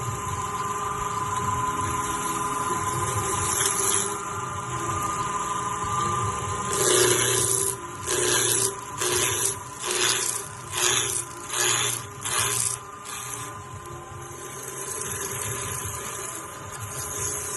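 Wood turning on a lathe with a round steel chisel, a steady motor hum with a scraping rasp, then a run of rhythmic repeated cutting bursts about once a second from the chisel meeting the spinning wood.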